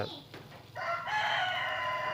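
A rooster crows steadily and fairly close, its sustained call filling most of the short stretch outdoors, with no talk over it.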